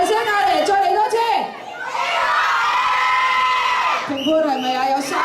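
An event audience in Hong Kong shouts loudly together, a dense crowd roar of voices and cheers with a sustained collective yell in the middle, mixed with individual shouting.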